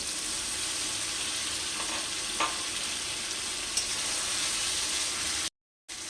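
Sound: chicken added to frying spices in oil

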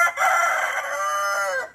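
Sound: chickens calling

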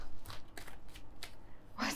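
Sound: shuffling tarot cards

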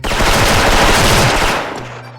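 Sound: Platinum FAMAS rifle gunfire in video game Special Force

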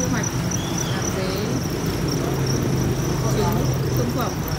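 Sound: crickets on a cricket farm

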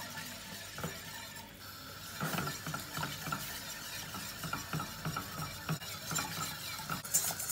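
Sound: stirring flour roux with cold milk until it boils

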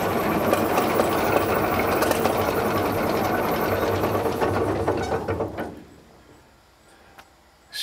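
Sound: 1938 Twin City tractor engine firing up

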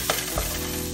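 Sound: garlic frying in a pan

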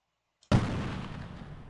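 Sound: gunshots in Delta Force video game

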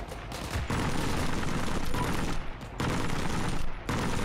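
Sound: gunfire in video game Heroes and Generals

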